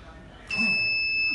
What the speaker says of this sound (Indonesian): Lepas tu kat situ, pilot lamp dengan buzzer pun bunyi.